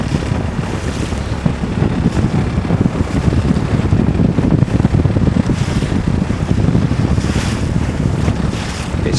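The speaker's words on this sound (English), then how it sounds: "we are sailing, just come to the bottom of the Hamble" Sailboat under way at the bottom of the Hamble, a loud, steady rush of wind and water with buffeting wind noise on the microphone throughout and no one talking.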